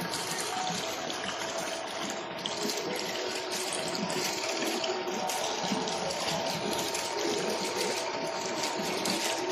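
A swimming pool vacuum pump runs with water gushing and rushing steadily, loud and continuous at close range with no talk.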